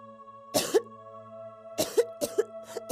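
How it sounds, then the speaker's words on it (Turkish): A child coughs in short bursts: one cough, a pause, then three quick coughs in a row, fairly close, with a steady tonal hum underneath. "Hala öksürüyorsun."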